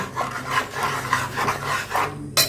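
A spoon works dry-roasted ground spice powder into a pot of vegetable dal, giving close, continuous rasping and scraping strokes in an uneven rhythm, with a brief sharper scrape at the very end.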